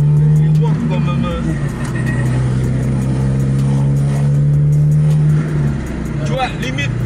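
A Honda Civic Type R heard from inside the cabin as it accelerates: a steady, loud engine drone climbs and shifts pitch through gear changes, with people talking over it.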